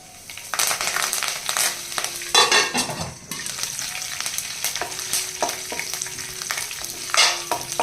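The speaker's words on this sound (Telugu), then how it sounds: "ఒక స్పూన్ పచ్చిశనగపప్పు ఒక స్పూన్ మినపప్పు హాఫ్ టీ స్పూన్ జీలకర్ర వేసి వేగించాలి" Chana dal, urad dal, cumin seeds and curry leaves fry in oil in a pan for a brinjal dish, a loud crackling sizzle broken by repeated spatula stirs and scrapes.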